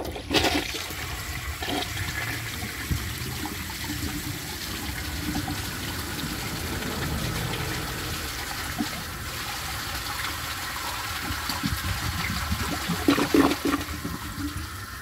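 A 1990 American Standard Cadet toilet flushes a washcloth: a gushing flush that swirls and drains, then settles into trickling and refilling water, with a brief gurgle near the end.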